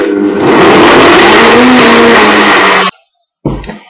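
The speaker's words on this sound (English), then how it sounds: "I'm just sticking it on the blender, blend tech. I'm going to hit number 2." A Blendtec blender whirs loud and close while blending bananas and dates into a smoothie, running steadily for about three seconds before stopping abruptly, followed by a short clunk.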